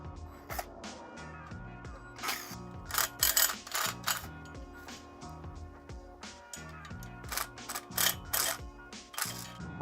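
A ratchet wrench works oil pan bolts loose on a Subaru BRZ / Scion FR-S / Toyota 86 during a turbo install, giving steady close clicking pawl ratchets in repeated bursts alongside metallic clinks, with no speech.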